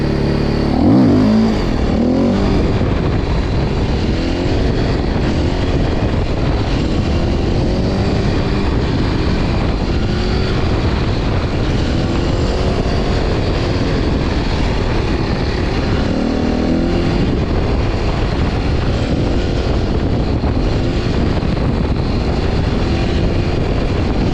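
Continuous motorcycle engine noise while riding, a steady loud roar with rushing air, rising and falling slightly throughout.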